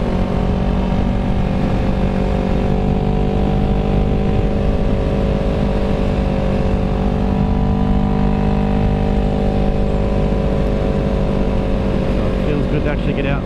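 A Yamaha YZF R3 motorcycle on the move, its engine holding a steady, loud drone under a constant roar of rushing wind for the whole stretch.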